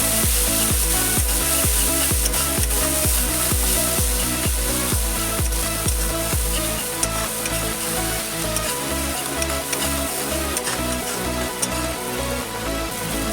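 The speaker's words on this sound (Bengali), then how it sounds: "লাল লঙ্কার গুঁড়ো এটা যে গুলিয়ে রেখেছিলাম এটা দিয়ে দেবো। এটা ভালো করে কষিয়ে নেব।" Red chilli paste frying with pieces of bhola fish in a pan for a Bengali spicy fish curry, a loud continuous sizzle with rhythmic stirring scrapes, close up and unbroken.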